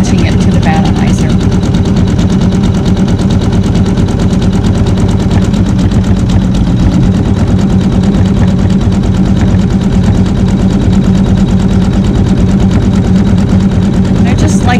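An embroidery machine stitches a Fleur de Lis quilt block in a steady, fast mechanical rattle that runs loud and continuous throughout.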